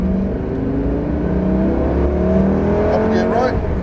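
A Lamborghini Gallardo accelerates away on a track, its engine note rising steadily through the revs, heard from close up under a voice giving instructions.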